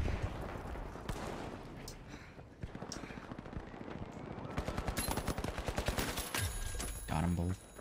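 Automated turret in The Finals firing rapid, evenly spaced bursts of gunfire, dense and punchy in the foreground, with other combat noise and brief voices mixed in.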